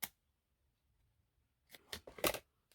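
Scissors snip through material for a 3D Target serving tray: one crisp cut at the start, a quiet pause, then a quick cluster of three or four close, sharp snips, with no talking.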